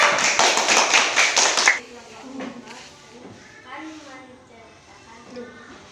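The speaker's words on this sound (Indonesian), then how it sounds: "Tepuk tangan untuk kelompok 4." Classroom applause for a student discussion group: a dense, loud patter of rhythmic clapping from many pupils for nearly two seconds, then it stops abruptly and quiet talk and room noise follow.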